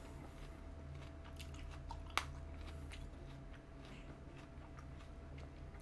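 Someone close by chews Korean melon (chamoe) with faint moist, crunchy bites and one sharper crunch, over a low steady hum with no talking.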